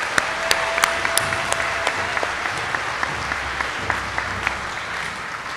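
Steady applause from the audience at a high school graduation ceremony for the scholarship winners, dense and even throughout, with sharp individual claps popping out close by.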